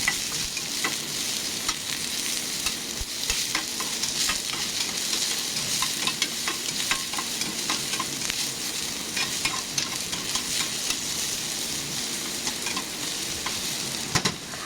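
Onions sautéing in a pan for chicken biryani give a continuous close sizzle with frequent spatula scrapes and stirring taps throughout.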